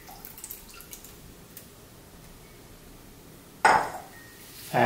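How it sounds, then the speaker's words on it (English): Coffee splashes into a metal baking sheet in a sudden loud pour near the end, after a stretch of quiet with faint drips, then a second burst begins. "take a baking sheet like this, pour the coffee in there"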